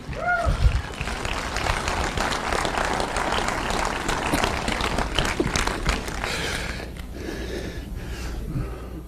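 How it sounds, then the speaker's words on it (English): An audience at a motivational talk applauds in a dense, sustained wash of clapping with scattered cheers and voices mixed in, easing slightly toward the end. "Come on, get over there, a round of applause."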